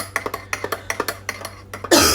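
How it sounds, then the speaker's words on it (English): A person with a persistent cough gives a rapid series of about a dozen short, close coughs in a quick rhythm, ending in a brief louder burst of noise. "Excuse my coughing, guys,"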